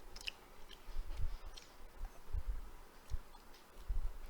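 Crunchy chewing and biting on crispy KFC fried chicken in a close-up ASMR setting, several distinct crunches at a steady, irregular pace, loud and intimate with no talking.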